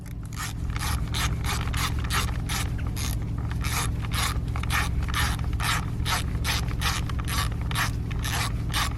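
A ratchet wrench clicks rapidly and evenly, tightening the 8mm bolt on an ignition coil of a 2013-2020 Ford Fusion, loud and close with no talking.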